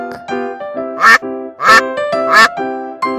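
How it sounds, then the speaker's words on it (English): A duck quacks three times, loud and close, with the quacks spaced about half a second apart over steady background music. "Duck."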